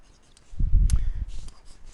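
A pen scratches out a handwritten maths expression, a short burst of close rubbing strokes lasting about a second.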